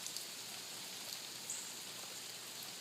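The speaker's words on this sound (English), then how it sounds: "Did you see that massive piece of rain just attack me?" Steady rain falls as an even wash of soft hiss, fairly faint and unbroken, with no talking.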